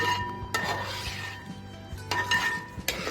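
Beef roast being stirred in a pan, with repeated scraping strokes and sharp metallic clinks of a spoon against the pan, close and fairly loud.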